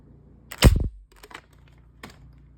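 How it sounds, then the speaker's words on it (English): A Nerf AirTech 1000 blaster fires a suction cup dart with one sharp, close pop, followed by a few faint clicks and taps. "we're testing the AirTech 1000, the very first blaster I ever owned, firing a suction cup dart"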